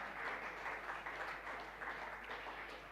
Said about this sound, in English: Some applause will be very nice to encourage him.